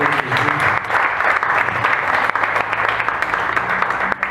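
Steady applause from a church congregation, dense and sustained, filling the space at close range for the full length with no clear pauses.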